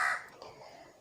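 A crow gives a single harsh caw, loud and close at the start, then trails off quickly into quiet.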